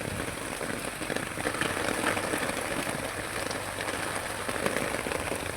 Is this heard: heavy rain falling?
yes